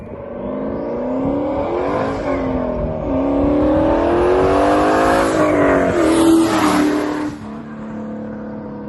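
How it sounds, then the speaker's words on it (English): A turbocharged 2001 Chevrolet Camaro SS makes a full-throttle pull, its engine roaring loud and close as it climbs steadily in pitch through the gears for several seconds before backing off sharply. "it was us doing a pull the same exact day that we ended up replacing the turbo"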